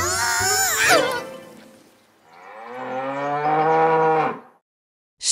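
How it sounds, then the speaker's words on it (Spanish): A brown cow moos twice, loud and close: a long, drawn-out call, a short pause, then a second call that ends abruptly. "Vaca. Vaca. Marrón, cow."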